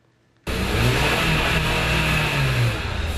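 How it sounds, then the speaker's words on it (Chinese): A car engine starts with a sudden roar and keeps revving loudly and steadily for about three seconds, with no voices. "引擎声轰隆隆"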